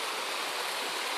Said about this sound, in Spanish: este río que se ha producido